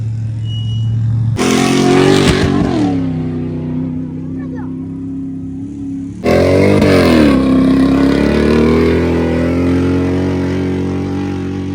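A two-seater jeep built for a village jeep rally drives off, with loud engine roars and revving in two bursts that fade between them, and people talking under the noise.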